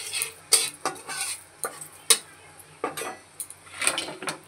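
Black cumin seeds temper in hot oil in a pan, sounding as intermittent crackles and sharp metallic taps and scrapes from stirring, irregular and close, with quiet gaps between bursts.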